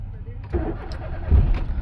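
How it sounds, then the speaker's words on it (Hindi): A Suzuki Alto K10 car with a long-start problem cranks on its starter, a short rough churning that builds into a louder catch toward the end, with a voice heard around it. "ये लंबी स्टार्टिंग हमारी गाड़ी की।"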